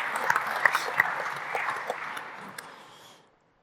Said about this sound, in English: Big applause for Michael